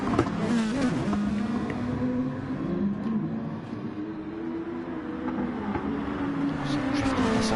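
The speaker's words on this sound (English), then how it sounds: "Some drifting sounds going on" Cars in a Gran Turismo-style online league race at Circuit de Spa-Francorchamps, engines droning steadily throughout with tyre squeal from drifting woven in, a continuous loud mix without pause.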